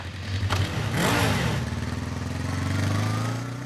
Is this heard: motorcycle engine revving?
yes